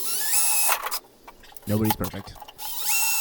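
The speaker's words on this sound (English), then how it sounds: "you need to go back and widen these holes up a little bit" A power drill widens holes in a Darkglass Microtubes rackmount case, whining loudly in bursts before and after a brief stretch of talk.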